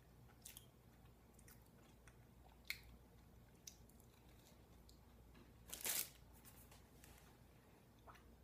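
A red velvet frosted Pop-Tart with red sprinkles is bitten and chewed up close, faint crumbly crunches and soft mouth sounds with one louder crunch partway through.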